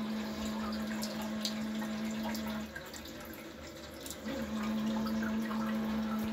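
A Qualitas Versailles close coupled toilet from around 2002 flushes, with water rushing and trickling as the cistern refills and a steady low hum running underneath for several seconds, no one speaking.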